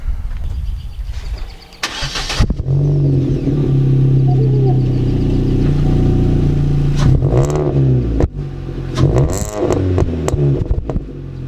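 A Chevy Cruze with a ZZP catback exhaust starts and revs, a loud nearby rumbling idle rising into several throaty rev blips toward the end, with no talk.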